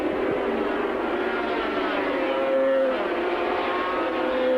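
Honda 350cc racing motorcycles speeding past on the Calder circuit, a loud continuous high engine roar that swells as they pass close by, with no voices.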